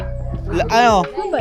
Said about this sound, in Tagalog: Ang laki yung aso.